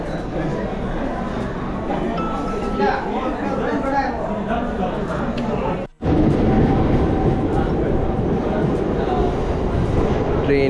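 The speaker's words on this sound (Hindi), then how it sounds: "ट्रेन मेरी छोड़ गई डूब." A crowded Mumbai suburban train pulls out of Andheri station, a loud steady rumble of carriages and rail noise with crowd chatter mixed in throughout, broken by a brief dropout midway.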